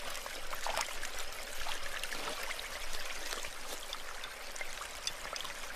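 Water in a creek where platypus live runs and trickles steadily over rocks, a close, continuous broadband rush with small splashes and no voices.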